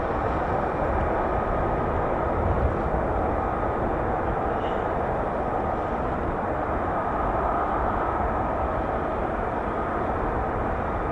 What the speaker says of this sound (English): there are more F-35B spooling, as you can hear